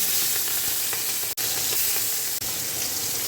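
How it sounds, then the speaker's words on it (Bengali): Small prawn pieces frying in a pan, a dense, loud, continuous sizzle close up, with a couple of sudden brief cutoffs and faint stirring underneath, no speech. "তার জন্যই প্রথমে চিংড়ি মাছগুলো ভেজে নিচ্ছি"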